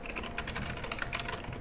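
Quick, steady keystrokes clatter on a computer keyboard whose E key is failing, a close run of light clicks with no pauses and no talk.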